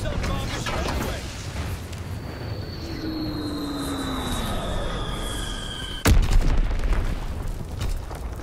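A bomb strike in Call of Duty: WWII: an aircraft whines overhead with a descending whistle, then a single loud, close explosion bursts and rumbles on, while a voice talks.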